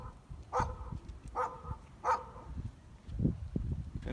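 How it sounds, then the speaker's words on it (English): Distant dogs bark outdoors in three sharp evenly spaced barks, moderately faint, followed by lower scuffling noise and no talk. "I don't know what's up with them dogs over there."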